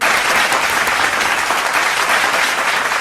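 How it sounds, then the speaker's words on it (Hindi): Loud, dense audience applause fills a hall as a speaker is welcomed onto the stage at a Hindi literary memorial gathering, steady clapping throughout with no voices over it. "आपकी ज़ोरदार तालियों के बीच पर मंच पर आने की दावत देता हूँ श्री संतोष कुमार पांडे जी को।"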